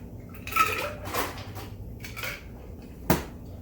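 A spoon clinks and scrapes against a glass while stirring a homemade infused gin cocktail, a few distinct metallic taps and swirls close by, ending with one sharp clink.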